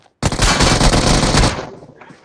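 Rapid automatic gunfire rattles out in a loud, dense burst lasting about a second before tapering off, from a shooter video game, with no talk over it.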